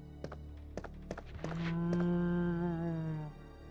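A Resident Evil 2 zombie gives a long, low, droning moan that swells and fades, preceded by several dull thumps, heard alone without talk.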